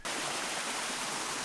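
Waterfall in a Filipino jungle on Siquijor, a constant loud hiss of falling water, close and unbroken.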